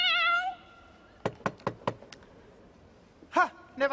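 On stage at a Scór Sinsir final, a performer's voice imitates a cat with a drawn-out meow, then four crisp knocks on a door sound, followed by another short meow-like call.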